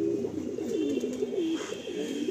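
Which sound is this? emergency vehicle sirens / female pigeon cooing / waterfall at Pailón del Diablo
female pigeon cooing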